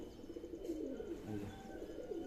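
A pigeon in a loft gives a low, quiet coo against faint background hum, brief and a little distant.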